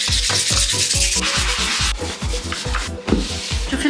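A wooden home decor piece made from junk is sanded by hand in quick back-and-forth strokes, a close, loud, rhythmic rasping that repeats about three times per second with no voices.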